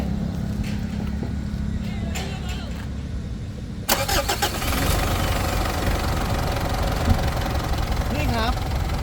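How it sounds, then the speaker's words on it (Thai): A used Mitsubishi's 2.5 VG Turbo engine is cranked and catches, then settles into a steady rumbling idle, with someone talking over it before and after the start. "เดี๋ยวผมจะสตาร์ท ให้ฟังเสียงเครื่องดูนะครับ"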